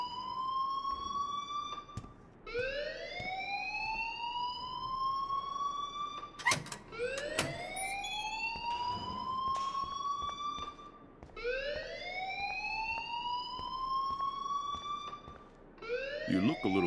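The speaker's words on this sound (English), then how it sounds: "please turn off that alarm since that's your job" A school fire alarm in the video game Life is Strange gives repeated rising, siren-like wails in a steady cycle, with people talking over it.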